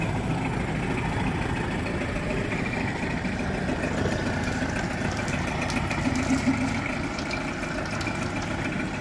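A 1994 Mercury 8hp two-stroke outboard motor runs on a tank and hose with a 50-to-1 fuel mix. It gives a steady, loud, close buzzing idle with an even, rattly pulse throughout.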